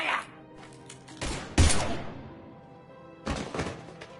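Gunfire in the Mass Effect video game comes as a few separate heavy shots with reverberant tails, a loud blast in the middle and another near the end, spaced apart.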